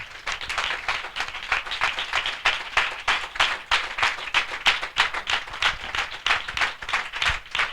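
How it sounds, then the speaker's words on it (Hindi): An audience at a Christian spiritual gathering claps loudly in welcome, a strong and fairly rhythmic run of many hands beating together in quick, pulsing bursts that go on for several seconds. "हम जोरदार ताली से उनका स्वागत करें"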